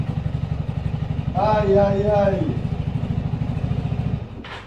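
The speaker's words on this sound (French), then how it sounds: "Regardez-moi ce super scooter Vespa, les gars." A Vespa scooter engine idles with a rapid, regular putter close by, while a voice exclaims over it partway through before the engine continues alone.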